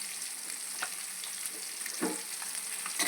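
Egg fry sizzles in a pan with chilli powder while being stirred gently, giving a steady high hiss with a few soft spatula scrapes and one heavier stir near the end, close and quiet.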